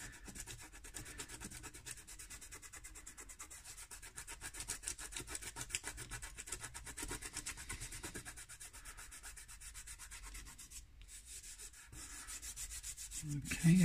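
Dried masking fluid rubbed off watercolour paper for a snowdrop painting, a steady soft scratchy rubbing that runs continuously throughout, close and fairly quiet, with no talk.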